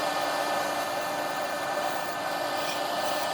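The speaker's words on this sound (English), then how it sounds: "Combination of push and some pull cuts and shear scraping to finalize the round over" Wood lathe cutting and shear scraping a small padauk and resin bowl: a steady, dense hissing scrape with constant motor hum, continuous and close, no pauses.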